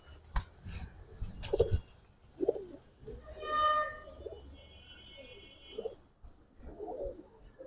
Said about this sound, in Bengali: অনেক লম্বা একটা কবুতর এটা মাদি বাচ্চা হবে